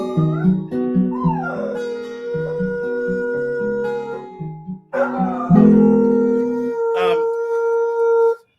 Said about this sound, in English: I didn't have the dog howling when I did that